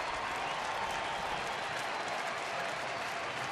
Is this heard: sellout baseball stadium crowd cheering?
yes